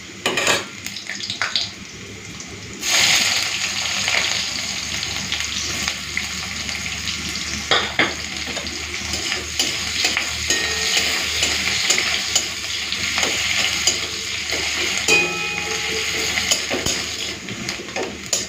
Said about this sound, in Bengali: এই তেলের মধ্যে ওই যে রসুনের কোয়াগুলো দিয়ে দিচ্ছি